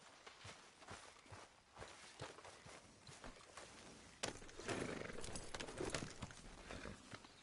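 A horse's hooves clop along at a walking pace in Red Dead Redemption 2, irregular thuds over a soft background, growing busier partway through.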